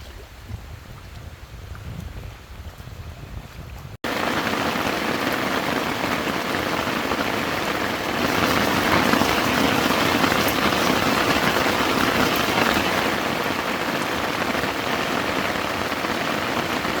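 Heavy rain from a sudden storm drums on a tent's rain fly at a lakeside campsite in Algonquin Park. A softer patter builds abruptly into a loud, dense, continuous downpour, with no talking.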